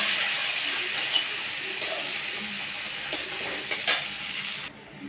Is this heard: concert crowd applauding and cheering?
no